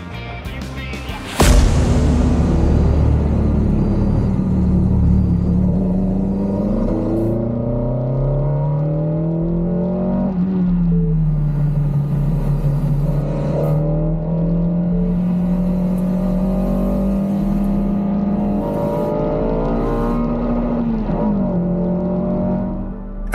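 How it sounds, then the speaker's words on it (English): V8 race cars roar off the line as the start lights go out, with a sudden loud burst followed by sustained engine drone. The pitch rises and dips as the cars accelerate and shift, and the roar stays close. "As the lights go out, the roar of the V8s surrounding Charlie fills the air"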